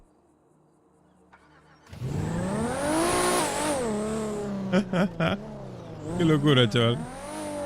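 A car engine in a roleplay video game fires up and revs hard, rising and falling in pitch with sharp throttle blips toward the end, while someone talks briefly over it.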